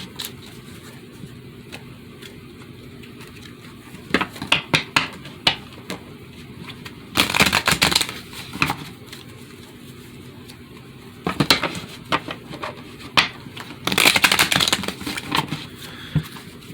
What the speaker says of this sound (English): I'm still having trouble shuffling